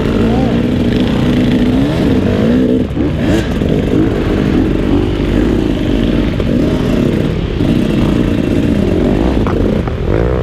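A 2018 KTM 300 enduro motorcycle works its way up a hill at a hare scramble, its two-stroke engine droning loud and close throughout with rough, fluctuating revs, clattering and a voice speaking over it.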